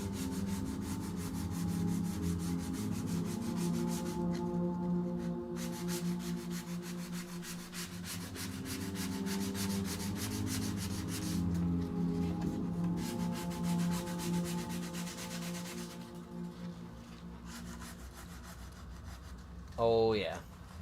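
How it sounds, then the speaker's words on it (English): Wood sanded by hand, a steady, rhythmic rasping rub that runs continuously, with short pauses, close and fairly loud, and a brief voice-like sound near the end. "I'm reaching the end of my my sanding experience for today"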